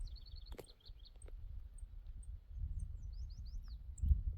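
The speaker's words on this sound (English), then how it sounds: "You can hear the birds singing." Birds chirp in short, sparse high calls over a calm lentil field on a farm, fairly faint above a low, gentle breeze rumble, with no talking.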